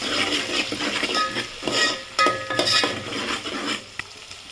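Green chillies, onions and curry leaves are stirred in a frying pan for khichdi, with close, rhythmic metallic scraping and clinks of a spatula over a light sizzle.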